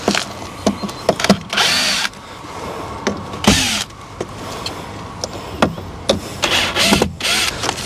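A power drill backs a screw out of a roof batten during an attic roof reconstruction, making a series of short, close whirring bursts separated by brief pauses, with no one talking.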